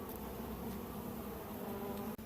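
Honey bees buzz near a beehive, a dense continuous hum from many insects, close and steady, cut briefly by a short dip near the end.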